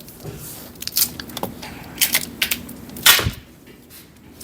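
A pouch cell is pulled and torn loose from a leaking 2019 Hyundai Kona Electric battery pack, giving several sharp crackling rips and snaps in uneven bursts, close and fairly loud.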